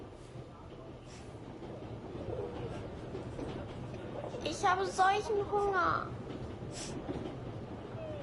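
A train runs steadily with a low continuous rumble and rattle, while a person speaks briefly over it partway through.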